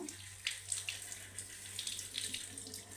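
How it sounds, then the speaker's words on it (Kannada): Freshly picked durva grass is rinsed under a running tap, a steady splashing stream with brief spatters as the blades are handled, fairly quiet and with no talking. "ಇದನ್ನು ಇವಾಗ ವಾಶ್ ಮಾಡ್ಕೋಬೇಕು"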